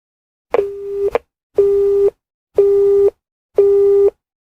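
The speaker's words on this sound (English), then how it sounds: "The dial tone seemed to echo in the empty room." Four evenly spaced tone bursts repeat, each about half a second long with equal gaps, a steady telephone signal heard clearly with no talking.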